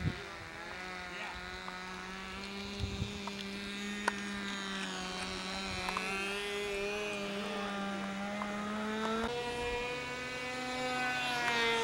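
A control line model plane engine with a tip-weight issue drones steadily in flight at a contest, its high buzzing tone wavering slightly with each lap and holding a constant, fairly loud level throughout.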